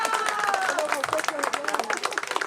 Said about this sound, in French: Messieurs, vos applaudissements.